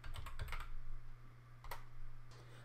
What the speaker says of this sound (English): so I'm going to type Cisco.